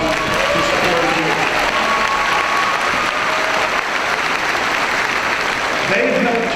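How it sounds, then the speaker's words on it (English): Sustained applause from a graduation ceremony crowd fills the hall at steady volume, a broad, continuous wash of clapping with faint voices mixed in. "So let's give all of them a round of applause to support you."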